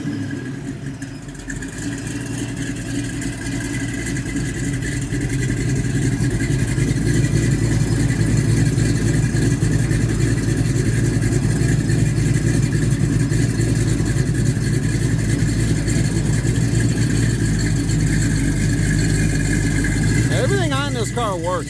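A 1969 Chevrolet Chevelle Concours wagon idles through its exhaust, a loud, steady low rumble that swells slightly after the first few seconds and then holds a constant throb.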